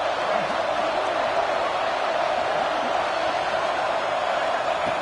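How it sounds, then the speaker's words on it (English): A fired-up football stadium crowd roars early in a game, a dense, steady wash of distant cheering and shouting that holds unbroken throughout. "It's early, but this crowd is fired up. Listen to this noise here."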